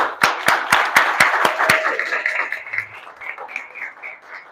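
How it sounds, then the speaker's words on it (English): An audience at a community dance academy event gives a round of applause. Sharp, evenly spaced claps ring out close and loud, then soften into a looser crowd clatter and murmur. "Let's give him a round of applause."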